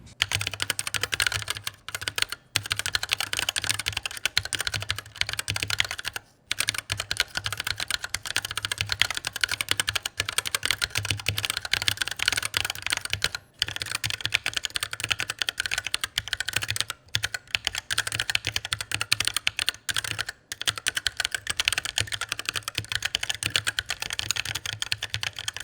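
Typing on a mechanical keyboard fitted with Glorious Panda tactile switches and lubed stabilizers, dense rapid close keystrokes clacking continuously with brief pauses, no voices.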